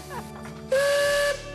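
A Talyllyn Railway steam locomotive sounds its whistle, a loud, sustained tone of about half a second rising out of quieter railway ambience with a hiss, after a short fainter lead-in.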